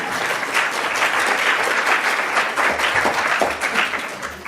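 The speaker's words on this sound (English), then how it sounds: "maybe deserves another round of applause just for that" Steady audience applause at a corporate annual plan presentation, many hands clapping in a dense, continuous patter that stays fairly loud for the full stretch.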